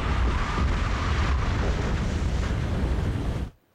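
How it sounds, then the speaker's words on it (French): A violent wind gust rushing between two hills and flattening a stand of conifers, a loud, continuous roaring blast of low rumbling noise that cuts off abruptly near the end. "Une rafale s'engouffre entre 2 collines et couche tout un pan de conifères"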